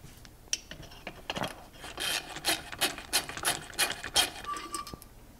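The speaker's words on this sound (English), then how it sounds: "I got my ratcheting screwdriver here." A ratcheting screwdriver with a T27 Torx bit clicks in quick irregular bursts while backing out screws on a Stihl MS391 chainsaw, close and fairly loud.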